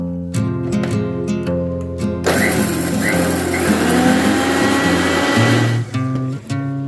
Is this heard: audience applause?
no